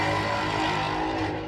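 Traffic streams along a very busy highway in a dense, loud and continuous roar of tyres and engines, steady throughout with no voices over it.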